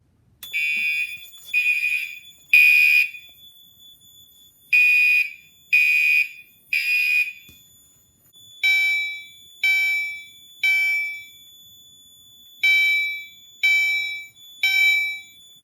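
A Commander 3 alarm panel in a garage gives its notification tones. First come several loud bursts of harsh, chiming beeps, then a run of shorter, cleaner repeated tones in groups of three, with no talk.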